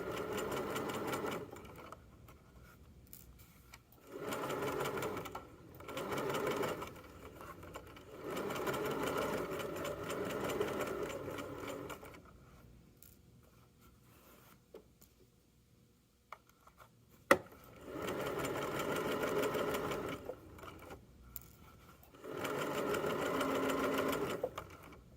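A sewing machine stitches the side seams of pajama pants in several bursts of steady whirring, each lasting a few seconds and separated by quiet pauses.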